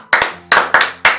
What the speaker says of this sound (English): More clap, more clap.